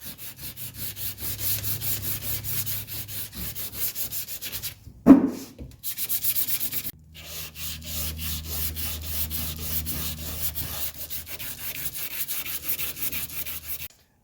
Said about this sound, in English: we're going to go ahead and start sanding this down to get the wax off